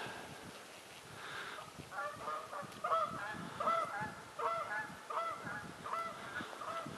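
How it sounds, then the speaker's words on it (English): Several geese honk repeatedly in the distance at Castle Rock Lake, Wisconsin, their calls overlapping in an irregular chorus over quiet outdoor background. "there go a couple of geese"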